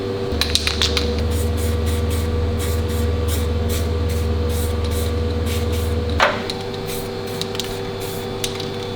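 A short spray squirt during restoration work on a 1941 Kubelwagen: a steady hissing spray runs for several seconds, then cuts off with a brief burst, close and fairly loud with no talking.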